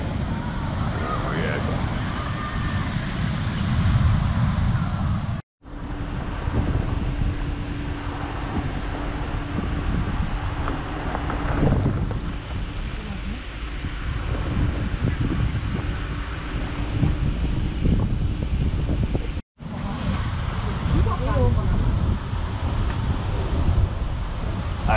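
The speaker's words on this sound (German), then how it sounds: "Also hier tobt der Pazifik." Pacific surf pounding the Mexican coast, heavy wind buffeting the microphone over a continuous roar of waves, sustained throughout with two brief dropouts.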